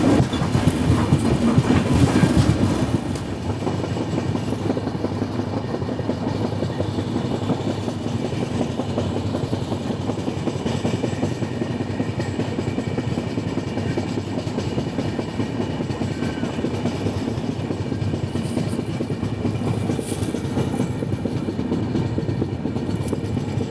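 Amritsar Nanded Sachkhand Express running at speed, a loud continuous rumble with rail clatter heard from inside the train, steady throughout after a slightly rougher first few seconds.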